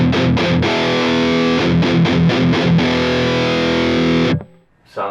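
Electric guitar through an HX Stomp distortion with the level turned all the way up plays heavy, saturated chords and a few choppy chugs, loud and close, sustaining before stopping abruptly near the end.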